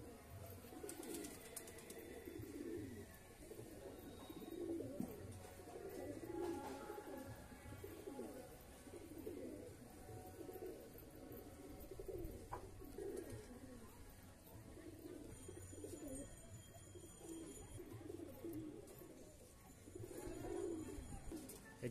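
Old-breed fly line pigeons coo softly and repeatedly, a low, rolling murmur of several birds close by, with faint background noise and no clear speech.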